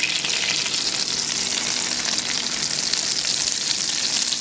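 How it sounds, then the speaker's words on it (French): Sole laid skin side down in a hot frying pan, sizzling loudly and steadily with a dense, even crackle that holds throughout with no pauses. "ajouter les sols, la tête à gauche, côté peau blanche, à cuire en premier."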